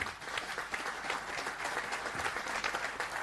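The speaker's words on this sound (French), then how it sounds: "qu'on peut applaudir évidemment" Audience applause at a French left-wing political round-table event in Brittany greets the president of the Occitanie region, with dense, steady clapping from a crowd sustained at an even level throughout.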